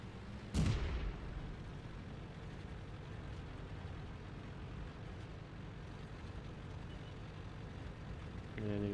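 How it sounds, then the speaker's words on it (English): A single heavy artillery shot from a self-propelled gun in World of Tanks, one sharp booming blast near the start that fades into a low rumbling engine drone, fairly faint overall. "you see the Artie just took one shot"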